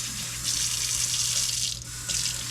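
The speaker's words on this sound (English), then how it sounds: "make sure the water is on" Warm water runs steadily from a tap into a sink at a sterile compounding handwash station, a close, continuous rushing stream that dips briefly before picking up again.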